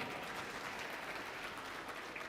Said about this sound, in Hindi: माशाअल्लाह, ज़ोरदार तालियां।